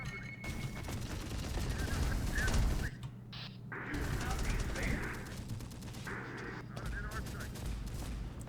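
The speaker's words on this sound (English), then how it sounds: "Oh, all the mortars" Mortar and artillery fire from Terminator Dark Fate Defiance, a dense rumbling barrage of blasts with a heavier surge before a brief lull, over steady battlefield noise and under a talking voice.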